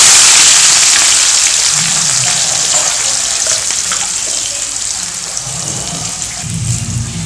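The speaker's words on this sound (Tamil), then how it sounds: "வெங்காயத்தை எப்பவும் போல் ப்ரௌன் கலரில் வர வரைக்கும் நல்லா வதக்கிக்கலாம்" Onions with curry leaves sautéing in hot oil for a Tamil Nadu style chicken gravy, making a loud, continuous hiss and crackle close by, with faint stirring thumps now and then and no talking.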